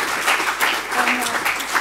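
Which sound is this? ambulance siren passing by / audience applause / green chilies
audience applause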